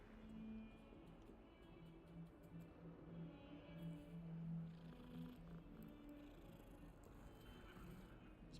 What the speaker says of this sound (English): Petting cats? Sweet.